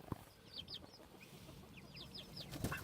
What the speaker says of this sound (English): Meat chickens, all the same age.